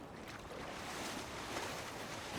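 Ocean waves wash and surge in Marvel's Spider-Man 2, a dense, steady roar of water close and continuous with no voices.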